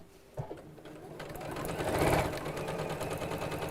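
Close up, a sewing machine stitches through stretchy faux fur on a bag, its motor starting softly and building into a loud, steady whirring run with no talking.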